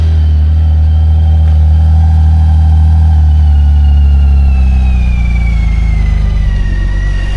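Motorcycle engine fitted with stock mufflers revs steadily, giving a loud, deep, rumbling exhaust tone close to the microphone, with the pitch easing slightly over the seconds and no talking.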